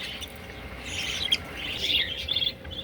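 Parakeets chirp in soft, rapid, high twittering bursts that come and go over a quiet background, fairly close and with no voices.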